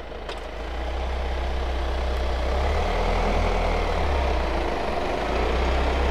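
A 2024 Kia Sorento facelift, EU model, creeps along under remote key control, its engine a steady low rumble with a broad, even hum that swells slightly as it starts moving, heard close and without voices.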